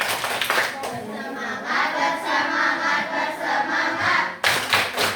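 An Indonesian classroom of students claps and chants in unison, a fast rhythmic clapping routine with loud group voices filling the room from start to finish.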